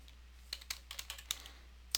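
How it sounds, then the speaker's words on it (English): Quiet, close typing on a computer keyboard, a loose run of about nine sharp key clicks at uneven spacing over a faint low hum. "Sorry, I'm typing in the wrong place."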